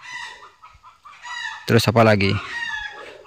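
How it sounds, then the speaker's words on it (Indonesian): Chickens cluck and squawk in the background while someone talks in a village, with one louder burst of agitated clucking mid-way. "tuh ada ayam ribut lagi di belakang"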